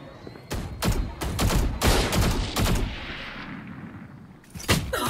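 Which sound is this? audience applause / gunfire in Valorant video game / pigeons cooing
gunfire in Valorant video game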